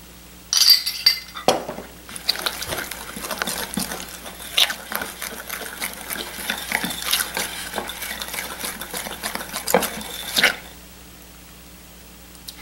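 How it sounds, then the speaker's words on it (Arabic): A whisk beats ingredients together in a bowl with quick, continuous metallic clinks and scraping, close and busy for about ten seconds before stopping. "راح احول الويسك واخلطهم مع بعض لحد ما يتجانسوا"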